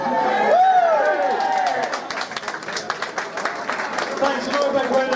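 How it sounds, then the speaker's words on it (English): A live audience claps and cheers in a busy room, steady applause mixed with crowd chatter, while a voice talks over it and a few whistles rise through the noise. "big round of applause here for Keith Dorr and Andy Morrison"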